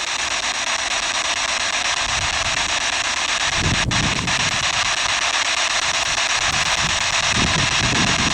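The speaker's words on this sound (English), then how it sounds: "Sorry, the wind's picking up a little." Steady wind roars across the microphone in an outdoor graveyard, a loud, unbroken rushing noise that fills the whole stretch, with brief low gusts and no speech.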